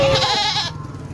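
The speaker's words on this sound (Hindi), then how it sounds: "बकरे खड़े हुए हैं, 30 बकरे खड़े हुए हैं।" Goats of the Teddy breed on a farm in Dera Ghazi Khan give a single loud, close, wavering bleat that cuts off abruptly, leaving a quieter murmur.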